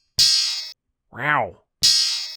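A sampled polyphonic chord rings out twice with bright bell-like partials and a clanging attack, each hit cut off after about half a second, with a short exclaimed voice between them.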